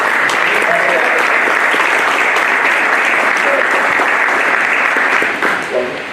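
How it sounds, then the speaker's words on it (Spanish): Sustained, dense applause from a seated audience at an academic lecture welcoming a speaker, loud and steady throughout before starting to thin out at the very end. "Un fuerte aplauso."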